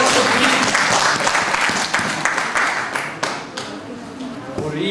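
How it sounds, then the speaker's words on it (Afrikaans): A school audience gathered for a judo certificate ceremony claps loudly and steadily, the applause slowly thinning toward the end. "Klap hande vir asseblief."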